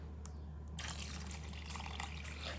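Water is poured onto freshly planted asparagus crowns in garden soil, a faint, soft trickle and splash that starts partway through and runs quietly to the end.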